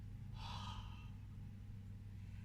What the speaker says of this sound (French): Je souffle.